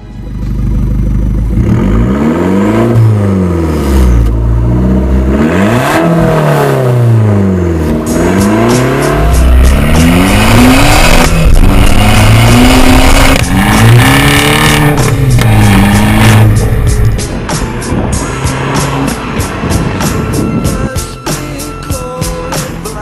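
A Kauzed car with a sequential paddle-shift gearbox and about 160 hp accelerates hard, the engine note climbing and dropping repeatedly through several loud gear changes, close and continuous with no talk.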